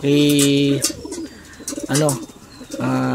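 Racing pigeons coo close by in three drawn-out, throaty calls separated by brief softer rustling and fainter sounds.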